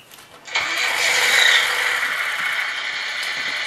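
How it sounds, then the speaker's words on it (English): A Tamiya 1/14 Ford Aeromax RC truck's electronic sound unit plays an engine start: a short quiet lead-in, then a sudden crank that settles into a steady, loud idling rumble through a small speaker, with no talk. "and the truck will start back up."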